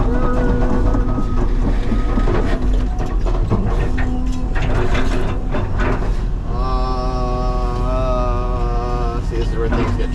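Excavator working on a canal bank, straining to lift a rock hopper: loud continuous engine and hydraulic rumble with clanking metal, and a rising whine of hydraulics in the second half.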